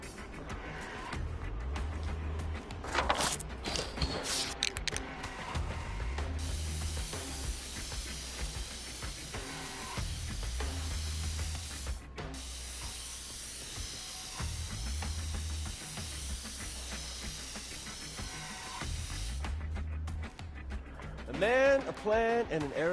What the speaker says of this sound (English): A man, a plan, and an aerosol can.